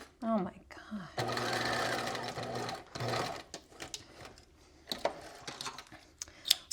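A sewing machine runs in short bursts, stitching in the ditch on a Sphinx top, with a steady mechanical whir near the start and a voice talking around it.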